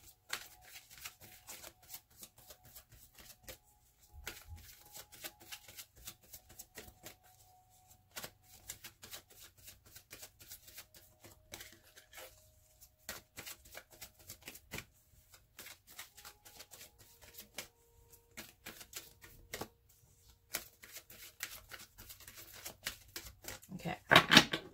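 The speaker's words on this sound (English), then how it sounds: "I'm going to pull a Romance Angels Oracle card from Doreen Virtue" Romance Angels Oracle cards are shuffled in a quiet room, a long run of soft, dense riffling and flicking with short pauses, fairly faint and close, ending in a few sharper taps.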